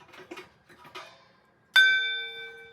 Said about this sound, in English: I'm gonna do my gong